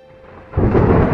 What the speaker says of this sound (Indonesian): Suasana mendung dan suara gelegar petir nampaknya sedang bersemayam di atas istana Dantalian